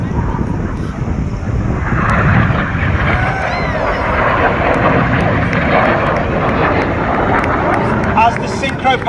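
Red Arrows jets, a synchro pair banking hard toward the centre in the Cyclone manoeuvre, give a steady loud roar with wind buffeting the microphone, while a commentator talks over it throughout.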